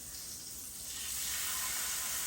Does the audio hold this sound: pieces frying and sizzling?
yes